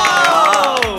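A burst of crowd cheering and shouting with excited voices rising together, loud and close.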